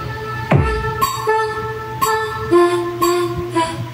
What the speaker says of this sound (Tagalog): So yan yung tunog ng ating setup mga lods.